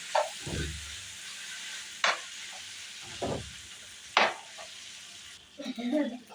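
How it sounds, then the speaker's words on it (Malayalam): Macaroni being stirred in a pan over sautéed ingredients gives soft scraping strokes and a few sharper clinks of the spoon against the pan over a faint sizzle, with a brief rustle at the end. "നമുക്കിതിലേക്ക് മക്രോണി ആഡ് ചെയ്ത് കൊടുക്കാം. നല്ലോണം മിക്സ് ചെയ്യാം."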